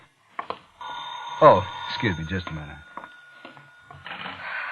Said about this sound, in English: Oh, that horrible phone.